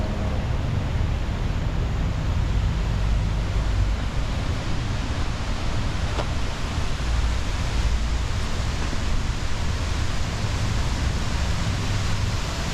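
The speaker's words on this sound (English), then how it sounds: "Waterfall Garden Park features a beautiful 22-foot waterfall right in the middle of the crowded city." A 22-foot urban waterfall in a Seattle garden park pours in a constant, broad roar of rushing water, steady and close with no pauses or voices.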